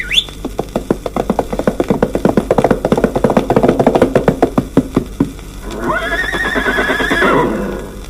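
A big white horse whinnies loudly and close, a long wavering neigh rising and falling after a run of rapid rhythmic clip-clop hoofbeats, recorded with an old-film quality.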